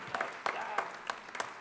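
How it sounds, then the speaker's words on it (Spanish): A studio audience at a bohemian music show applauds a composer in a brief burst of scattered, close claps, with a voice mixed in. "para él el aplauso"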